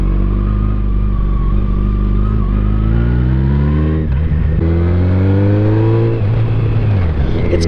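A 2007 Yamaha FJR1300 touring motorcycle accelerating, engine note climbing steadily through the revs, dipping at a gear change and then rising again, loud and close throughout with no speech over it.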